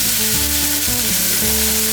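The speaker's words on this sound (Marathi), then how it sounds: "चुलीवर पातेलं तापायला ठेवलं, त्यात तेल घेतलं आणि मोहरी, जिरं, हिंगाची मस्त फोडणी दिली।" Chopped banana flower sizzles in an oil tempering of mustard seeds, cumin and asafoetida in a pot on a wood-fired stove, a loud, dense, constant frying hiss with music behind it.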